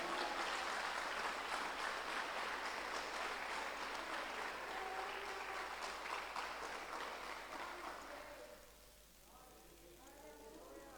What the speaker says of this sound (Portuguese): Você pode aplaudir Ele por causa disso?